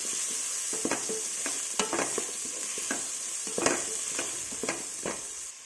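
Chopped onions and green chilies sautéing in a pan for macaroni, a steady sizzle broken by repeated scraping stirs of a spoon, close and fairly loud, with no talking.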